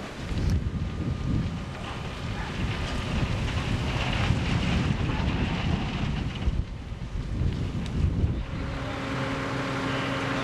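Strong wind roars steadily across a large fire at Lemmer's Vuurtorenweg near a yacht yard, a dense broadband rush with low rumbling gusts lasting throughout, loud and close to the microphone with no talking.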